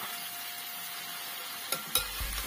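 Cumin-spiced chicken pieces frying in a hot pan make a soft, steady sizzle, broken near the end by a few short scraping stirs and clatters of a utensil against the pan.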